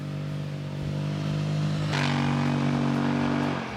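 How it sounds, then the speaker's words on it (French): The twin-cylinder four-stroke engine of a Kymco CV3 three-wheeled scooter, fitted with an Arrow exhaust, idles with a steady burble, then rises in pitch as it revs up close by. "cet échappement Arrow homologué fait chanter encore plus harmonieusement l'impressionnant bloc"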